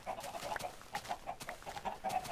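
Chickens cluck softly and repeatedly on a video game chicken farm, a steady, fairly faint chatter of short bird calls with no talking.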